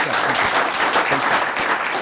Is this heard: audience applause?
yes